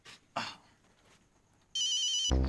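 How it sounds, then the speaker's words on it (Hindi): A telephone ringing loudly and steadily at night, a continuous electronic ringtone starting partway through after a few soft knocks and rustles, close and alone with no talk. "बॉस का फोन, अब भी इनको क्या काम है?"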